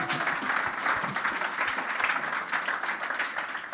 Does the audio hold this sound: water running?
no